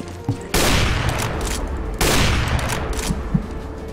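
Gunfire in CS:GO on the Overpass map: two loud, dense bursts of shots, one starting about half a second in and another near two seconds, with continuous firing between them and faint talk underneath.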